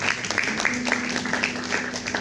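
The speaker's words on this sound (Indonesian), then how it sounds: "Yang percaya tepuk tangan buat Tuhan Yesus" Congregation clapping at a church baptism service: a steady, rhythmic run of claps about three per second, moderately loud and even throughout, with a faint low hum underneath.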